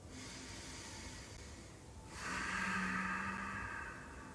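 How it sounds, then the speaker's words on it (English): Strong, audible breath during a yoga back-bend lunge, a soft airy rush that swells louder midway and holds for over a second before easing, with no talking. "Two more breaths, nice and strong."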